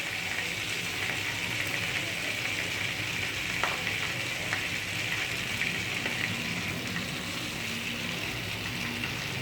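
Paneer rolls made from curdled milk crackle and sizzle in hot oil, a dense, steady, close frying hiss with faint pops throughout and no talking.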